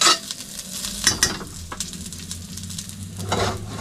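Garlic sautéing in a pan for a home-cooked lunch, with a close sizzle broken by clattering stirs and scrapes of a utensil, rising and falling in bursts.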